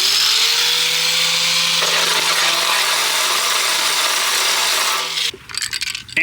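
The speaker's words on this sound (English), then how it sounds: "I'm gonna grab a grinder and we're just gonna grind the edges and just make it super smooth" An angle grinder works along the cut edges of a truck radiator support during an LS swap on an S10, giving a loud, steady, continuous grinding whine for about five seconds before it abruptly cuts off and spins down.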